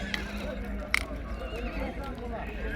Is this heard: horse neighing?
yes